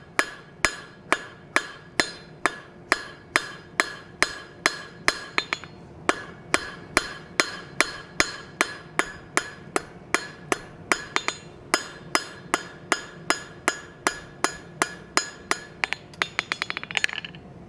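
A hammer striking a forged steel rose leaf on an anvil, a long run of sharp ringing blows at a steady quick rhythm with brief pauses and a faster flurry at the end, close and clear.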